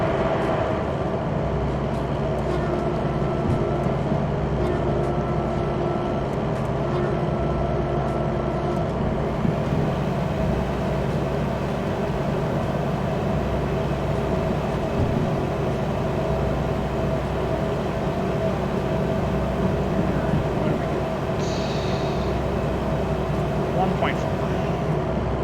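A steady, continuous locomotive rumble with rail and wagon noise as a train shoves a caboose back through the forest in the railway simulator game Derail Valley, holding an even level throughout.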